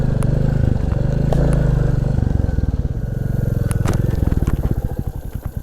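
A Royal Enfield 350 Classic motorcycle ridden over rough dirt ground, its single-cylinder engine thumping loudly and steadily up close while the chassis rattles and clatters over bumps.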